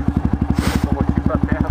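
A Honda CRF 250F off-road motorcycle engine idles and revs close by with a steady rapid thumping pulse, while someone talks over it.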